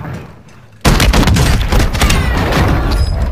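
Video game shotguns fire in a sudden loud burst after a short quiet start, then keep going as a dense run of booming blasts and thuds.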